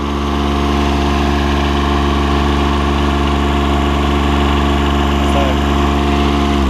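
A John Deere 455 diesel lawn mower idles with a loud, steady, close engine drone and a shaking rumble, after its fan belt was replaced. A voice briefly speaks over it.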